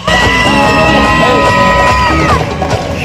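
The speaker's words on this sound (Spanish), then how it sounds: "voy a contar tres y tu niña te dé un grito a los tres" A girl's loud, sustained high-pitched yell rings out for about two seconds over a noisy crowd at a street clown show in Oaxaca's central square, then breaks off.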